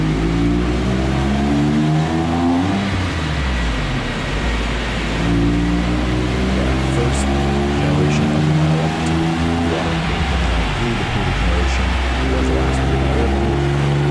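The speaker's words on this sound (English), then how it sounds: "Let's take a listen to what this car sounds like on the dyno." A Porsche 911 996 C4S engine running on a dyno: steady, loud, droning flat-six revving with rising and falling pitch sweeps throughout, heard alone and up close.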